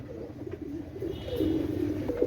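Teddy pigeons, including a Sabdar Royal Teddy male, give soft, low, rolling coos close by against faint background noise.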